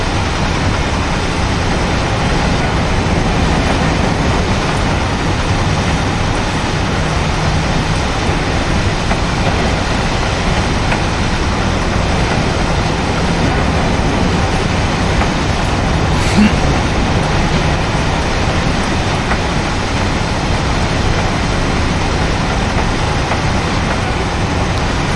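A simulated Metro-North New Haven Line train from the Open Rails game rumbles steadily on its route, a loud, dense, unbroken rolling roar with wheel and track noise lasting throughout, no talk.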